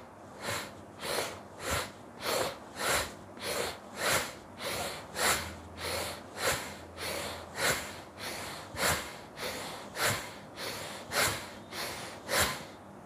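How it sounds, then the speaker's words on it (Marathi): Forceful, rhythmic bhastrika pranayama breathing during a yoga routine: about seventeen sharp, evenly spaced breaths pulse steadily and close, with no talking over them. "आपल्याला करायचा आहे भस्त्रिका प्राणायाम."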